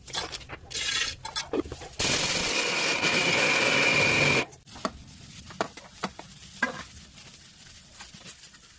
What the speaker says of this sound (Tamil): இப்போ எல்லாமே நம்ம லட்டு பதத்துக்கு நம்ம அரைச்சி எடுத்துக்க போகிறோம்.